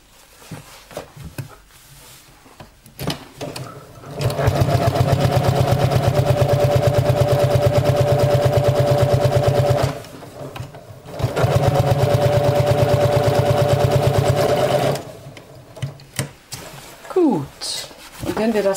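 A sewing machine stitches outdoor trousers in two long, loud, steady whirring runs separated by a short pause, with quieter handling noises and possible talk before and after.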